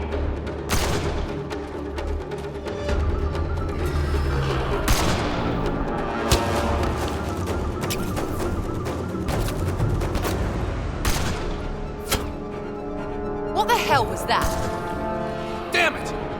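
Gunfire from a firefight in the video game Mass Effect Andromeda, with dense bursts of rapid shots and sharp cracks running throughout, loud and close, under intermittent character voices.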